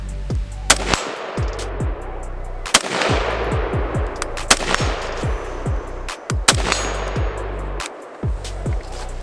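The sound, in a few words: Tavor X95 rifle shots fired with iron sights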